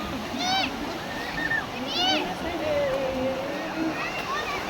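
Sea waves wash in with a steady, rushing surf, while children's voices chatter and call out over it.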